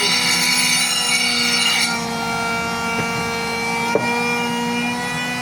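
A grinder cutting a groove into a wooden door, a loud steady whining drone held throughout, its pitch shifting slightly partway through, with a sharp click near the end.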